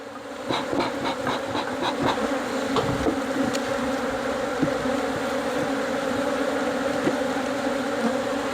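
A dense, steady hum of many honeybees buzzing close by around a hive, with a few light knocks and taps at the start.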